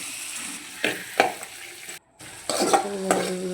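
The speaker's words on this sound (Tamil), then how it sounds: "அப்புறம் எண்ணெய் போட்டு கடுகு போட்டுட்டு நல்லா மிக்ஸ் பண்ணிவிட்டு வதக்கி எடுத்துக்கணும்" Drumstick leaves and mustard seeds frying in oil in a pan, stirred in a few scraping bursts with a brief pause, with soft sizzling close by and no talk.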